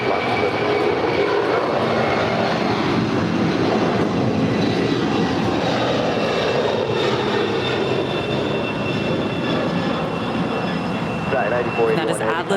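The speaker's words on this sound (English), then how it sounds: "That is Atlas Air 9481 going to Hong Kong" An Atlas Air jet airliner at Los Angeles International Airport, its engines producing a loud, steady broadband roar that fills the whole stretch, with faint tonal whine riding on top and no clear speech.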